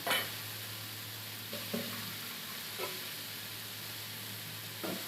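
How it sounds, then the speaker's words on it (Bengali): Spice paste with turmeric being sautéed in a pan for a rohu fish and vegetable curry, with a faint steady sizzle and a few soft scraping stirs spread across the moment, no voices. "এখন মশলাটা কষিয়ে নিব"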